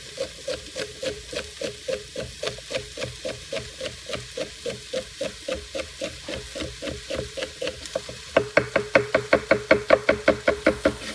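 A knife chops celery into half moons on a wooden cutting board, a steady run of quick, evenly spaced knocks close by, growing louder and sharper toward the end.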